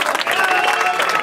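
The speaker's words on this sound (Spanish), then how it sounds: "Un aplauso para los" Audience applause for the parents at a live concert performance, dense steady clapping from a crowd filling the moment without any talk over it.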